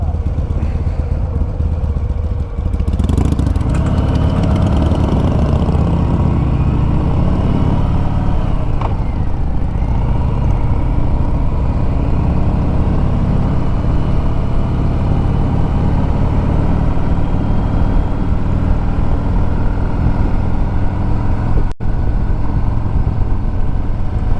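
A new Harley-Davidson Sportster 1200 motorcycle engine runs as a steady, loud low rumble with wind noise throughout, ridden outdoors by a first-time rider.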